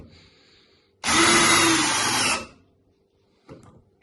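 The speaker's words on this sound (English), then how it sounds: "This is the old drill, mind you." A Makita DHP482 cordless drill whirs loudly at slow speed in a single burst of about a second and a half, then winds down and stops, with a faint knock afterward.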